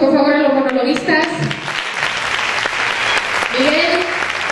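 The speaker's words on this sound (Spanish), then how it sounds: "Damos un fuerte aplauso, por favor, a los monologuistas." An audience at a charity monologue show applauds the performers, with steady clapping running throughout beneath voices speaking over it near and loud.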